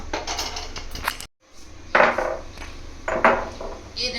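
A lid clanks onto a chicken pulao pot that has just been topped with coriander and mint. Two sharp metallic knocks ring out over a steady kitchen background, and faint talk can be heard at the start.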